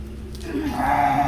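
A ewe on a shearing stand lets out one loud, close, rising bleat that holds for about half a second.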